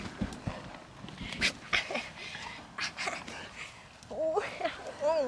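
Dogs camping out in a backyard make short excited whimpers, snuffles and scuffling thumps close by, mixed in with people chatting and exclaiming.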